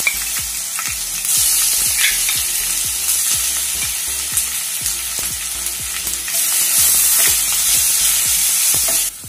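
Ginger, garlic, coriander and green chili paste sizzles loudly in hot oil for tempering, a steady close hiss with light crackles and occasional stirring scrapes.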